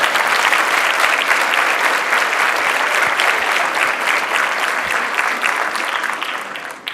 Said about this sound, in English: that is certainly something that deserves a round of applause